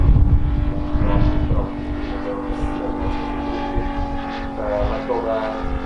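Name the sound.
MOKI engine of a 1:4 scale RC Grumman F4F Wildcat airplane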